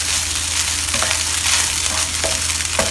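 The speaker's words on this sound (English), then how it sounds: "make sure that they are coated in this beautiful egg that we are frying inside here" Rice and egg frying in a pan for Chinese shrimp fried rice, with a steady close sizzle broken by occasional scraping taps as the rice is flipped. No one talks.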